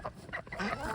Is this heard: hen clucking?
yes